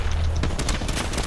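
Rapid bursts of automatic gunfire in the Fortnite video game, loud and dense with sharp repeated shots layered over a low rumble throughout the short stretch.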